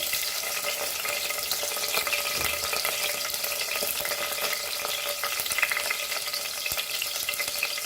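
Green chilies and curry leaves sizzle in hot oil, a dense, continuous crackling hiss that stays loud and even throughout, with no voices.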